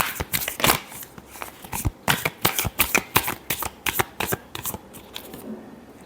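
Tarot cards being shuffled by hand, a rapid series of crisp riffling slaps and flicks in quick irregular bursts, close and fairly loud, with a brief pause near the end.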